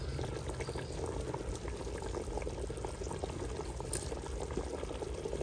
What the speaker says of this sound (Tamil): தண்ணி நல்லா கொதிக்குது ஃப்ரெண்ட்ஸ்.